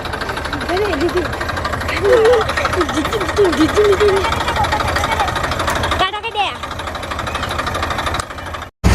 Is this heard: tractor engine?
yes